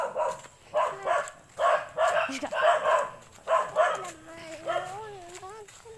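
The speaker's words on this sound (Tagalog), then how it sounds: "Ayan po, kumakahol po yung aso." Dogs bark repeatedly in quick bursts, fairly close, at a rural countryside home, followed by higher whining yips near the end.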